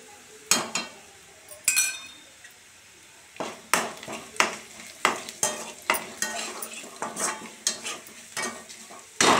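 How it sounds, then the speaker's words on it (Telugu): Onion and asafoetida tempering sizzles in a pan as a spoon stirs it, sharp scraping clinks of metal on the pan repeating in an irregular rhythm over a soft background frying hiss, close and fairly loud. "ఇప్పుడు ఈ పోపు బాగా వేగింది."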